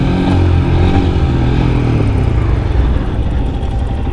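Royal Enfield Scram 411 motorcycle on a first ride heading down a steep slope, its single-cylinder engine a loud, close, throbbing rumble with wind buffeting, the pitch easing and shifting slightly as it rolls on.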